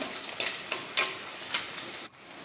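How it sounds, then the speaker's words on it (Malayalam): Green chillies with curry leaves sizzle steadily in hot oil for a Kerala fish curry, with a continuous close crackle broken by several spoon-stirring scrapes. "രണ്ട് മൂന്ന് പച്ചമുളക് കൂടെ ഇടുക ഇത് ചെറുതായിട്ടൊന്ന് മൂക്കണേ"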